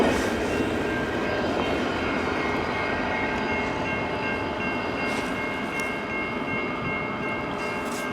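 A CN freight train rumbles past in Emmett, Michigan, a loud, steady broadband roar with tonal whine on top that holds unchanged from start to finish, close by and alone with no voices.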